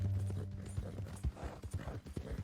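Horse hooves clip-clop at an unhurried pace under a low humming drone in the video game Red Dead Redemption 2, the steps close and fairly soft.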